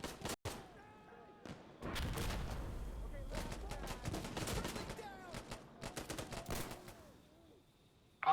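Gunfire in Insurgency Sandstorm, an SKS among the weapons: scattered sharp shots and bursts, some near and some distant, mixed with players talking over the action.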